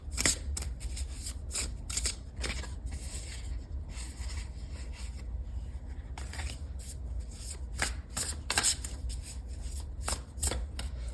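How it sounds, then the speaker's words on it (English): Thin paper tarot cards shuffled in a steady run of soft riffling, rubbing and tapping bursts, close and fairly quiet, with no voices. "I don't have the easiest time shuffling them, because they're so beautiful, but the paper is thin."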